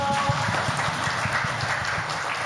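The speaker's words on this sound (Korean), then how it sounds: "박수로 청해 주겠습니다" An audience at a Christmas family camp concert applauds to welcome a singer, with a dense, moderately loud round of clapping that holds steady throughout.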